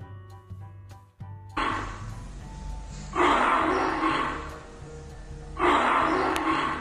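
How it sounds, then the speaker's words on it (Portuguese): A lion gives several loud, rough roars close by, each swelling then fading, coming in bursts after a short burst of clicks at the start. "É o leão."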